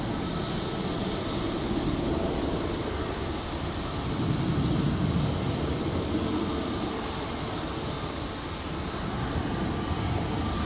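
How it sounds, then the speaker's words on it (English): A KLM airliner landing at Manchester Airport during a storm produces a broad, steady engine roar and rumble that swells slightly midway. The sound stays distant to moderately close, with windy wash over it and no voices. "Lovely landing there from the KLM, absolutely stunning."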